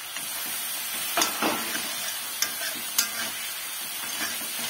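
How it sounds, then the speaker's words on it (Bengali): Onions fry in a pan with a steady hiss and sizzle, and a few louder spatters and stirring scrapes rise over the constant frying noise. "তারপর এখানে পেঁয়াজ দিয়ে দেব।"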